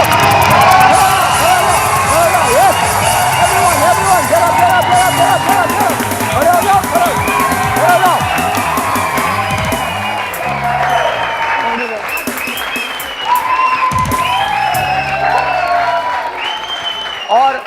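A morning TV show's studio audience claps and cheers loudly, with whoops and shouts over the applause, while voices talk through the noise.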